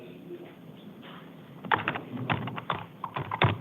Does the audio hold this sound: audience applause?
no